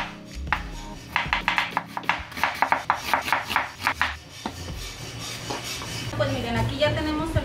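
A knife chops an onion into half rings on a cutting board, about a dozen quick crisp strokes in an uneven rhythm, close and clear, followed by softer handling sounds while someone speaks briefly.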